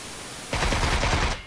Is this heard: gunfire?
yes